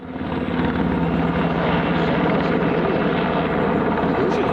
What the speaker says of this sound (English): You think that's a Canadian chopper?